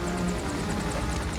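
A helicopter in a mountain-rescue movie scene from Cliffhanger gives a loud, steady roar of rotor and engine noise, close and continuous with no talk over it.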